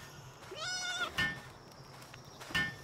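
A sheep-like creature in the video game Palworld gives a short, wavering bleat near the start, followed by two brief soft thumps, over a quiet game background.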